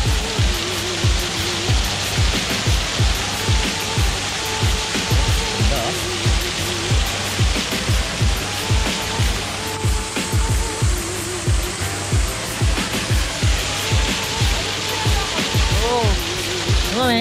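Waterfall at the Santa Fe reservoir in Spain pours in a steady broadband rush, with hiking voices talking over it and short bursts of wind buffeting the microphone.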